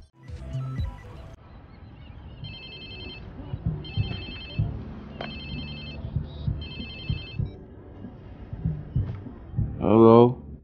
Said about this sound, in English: Hello? Whose phone is this? It's your new phone.